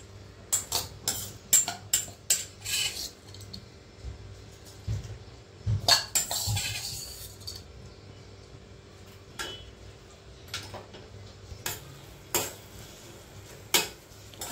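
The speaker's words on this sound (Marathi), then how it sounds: "कुकरमध्ये 2 चमचे साजूक तूप घालायचे आणि त्यात दलिया व्यवस्थित तूप सुटेपर्यंत भाजून घ्यायचा आहे." Broken wheat roasting in two spoons of ghee inside a pressure cooker on low flame, stirred with a metal spoon that clinks and scrapes against the cooker in irregular bursts, with quieter gaps between.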